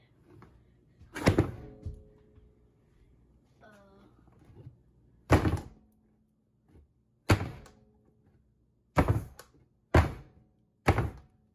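A heavy plastic mold holding a giant chocolate Lego brick is banged down on a surface several times, each impact a loud, hollow thunk with quiet gaps between, after some brief talking and handling noise at the start.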